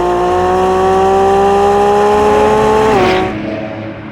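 A 2024 Lamborghini Revuelto's V12 engine sounds close and loud, a sustained rising howl that climbs steadily in pitch before dropping sharply with a shift and fading, with no talk over it.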